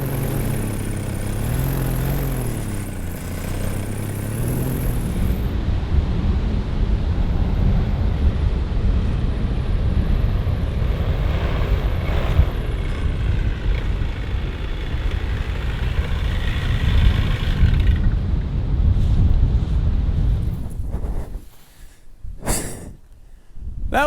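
A small plane takes off from a sand dune in the Bahamas, its engine a loud, continuous rumbling roar that holds for about twenty seconds before breaking into buffeting wind noise and crackles.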